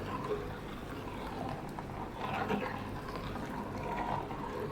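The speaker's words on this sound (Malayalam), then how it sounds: "ഞാനിപ്പോൾ ആവശ്യത്തിനുള്ള വെള്ളം ഒഴിച്ചു കൊടുത്തിട്ടുണ്ട്." Water is poured into a pot of buttermilk curry made without ground coconut, a faint, continuous liquid trickle and splash in a quiet kitchen with no talking.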